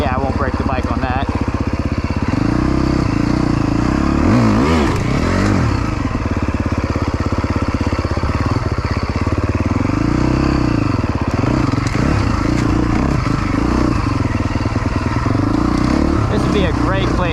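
A motorcycle ridden over rocks, its engine droning loudly and steadily throughout with clattering and scraping from the rough ground, close up, while a rider talks over it.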